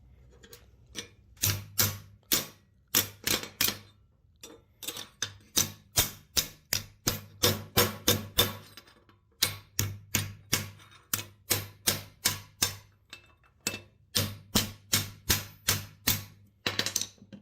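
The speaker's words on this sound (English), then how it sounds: "Hammer on it some more." Sharp metallic strikes in quick bursts, a hammer beating repeatedly on thin sheet metal MIG-welded to thick metal, with short pauses between runs of blows, close and loud.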